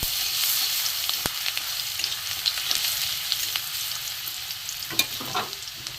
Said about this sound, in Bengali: তেল গরম হয়ে গেছে এখানে আমি রসুন কুচি দিয়ে দেবো রসুনটা একটু ভেজে নেব